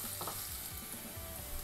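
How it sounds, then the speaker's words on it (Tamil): Green chillies sauté and sizzle steadily in a hot pan of oil while a spicy Guntur-style chicken dish is being made, a continuous close crackle with no talking. "அது நல்லா வதங்கட்டும்."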